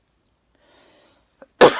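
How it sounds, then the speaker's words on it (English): A single harsh cough from a person with a seasonal cold bursts out close and loud at the end, after faint breathing and a small click. "I apologize for all the coughing and whatnot."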